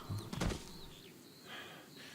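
A brief flurry of bird wing flaps bursts near the start in the Firewatch video game, close and soft, then fades into quiet outdoor ambience with faint bird calls.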